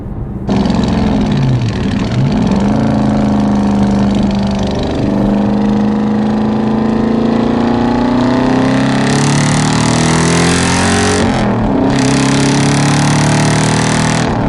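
A 2018 Dodge Challenger R/T Shaker taking a corner: loud, close engine drone with rising and falling tone as the car moves through the bend, a brief dip partway before the engine pulls again.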